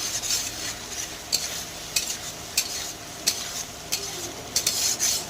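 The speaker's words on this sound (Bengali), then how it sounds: "এখন পটল ভেজে রেখে দিয়েছিলাম সেটাও দিয়ে দিলাম।" Fried pointed gourd being stirred into a cooked spice masala in a pan, with steady sizzling and repeated sharp scrapes and clinks of a spoon against the pan, close and clear.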